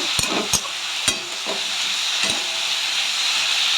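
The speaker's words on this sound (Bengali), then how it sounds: "সবজির ভিতরে সর্ষেটা দিয়ে দিয়েছি একটু ভাজা ভাজা করে জল দেব" Mixed vegetables with mustard sizzle steadily in a hot pan, a continuous hiss broken by a few sharp clinks of a utensil against the pan.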